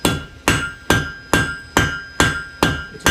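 A blacksmith hammers a hot metal taper on an anvil, seven or eight loud, ringing blows in a steady, even rhythm, each strike close and sharp with a bright metallic ring.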